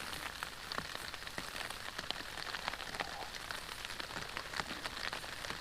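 Steady rain falling outdoors, a dense even patter of drops on surfaces with occasional sharper nearby hits, continuous and fairly soft, no voices.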